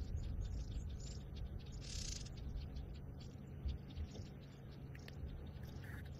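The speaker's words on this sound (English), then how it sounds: "There's a pair of even white-browed scrub robins." A pair of white-browed scrub robins gives faint alarm calls, short chirps that repeat at irregular intervals over a low rumble of outdoor background noise, with no talking.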